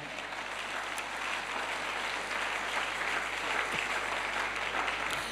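A church congregation applauds and cheers during a sermon, filling the room with dense, continuous clapping at a steady level and without a break, over a low hum.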